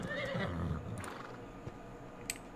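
A tamed horse in the ARK video game gives a single whinny that rises and then falls, followed by a few faint hoof clops and ticks on a quiet background.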